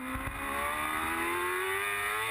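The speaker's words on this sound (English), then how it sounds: "let's just listen to the R6 Yamaha of Brian McCormick" A Yamaha R6 race motorcycle at Mondello Park revs hard, a loud, close, high-pitched engine whine climbing steadily through the rev range without pause.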